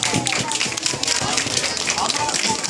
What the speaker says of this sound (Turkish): Ne kadar alkış geliyor?